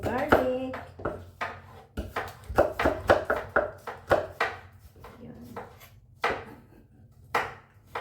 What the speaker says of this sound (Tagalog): Hiwain muna natin yung garlic.